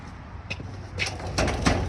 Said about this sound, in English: Let's see if this door is open.